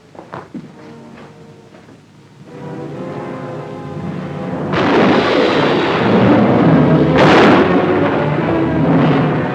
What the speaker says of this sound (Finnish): Ukkonen tähän aikaan vuodessa.